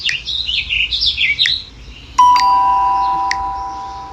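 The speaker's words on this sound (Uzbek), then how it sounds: "Qushlar sayrashi." Bright bird chirps and trills ripple quickly and loudly at first, then a clear electronic chime rings out and slowly fades, like a toy or device playing bird song among goods in a newly opened supermarket.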